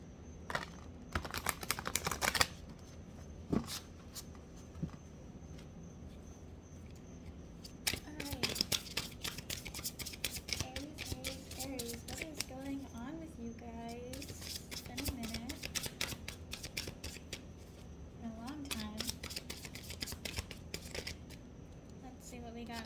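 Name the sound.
shuffling tarot cards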